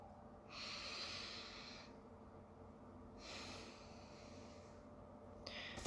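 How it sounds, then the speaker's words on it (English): Two slow, soft breaths drawn in through the nose, each a hissing rise lasting about a second and a half, with a pause between and a faint click at the end, all quiet over low room noise. "Everybody take a breath"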